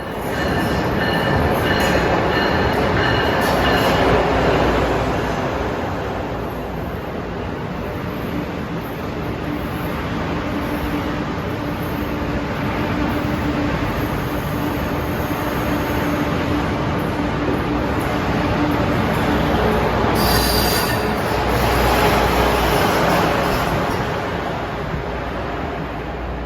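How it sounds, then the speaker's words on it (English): An Amtrak Acela train arriving at a Boston-area station, a loud, continuous rumble of rolling cars and rails for nearly half a minute, with high wheel squeal running throughout and swelling near the end, close by and without talk. "Arriving at 9:18, this is Acela 2190."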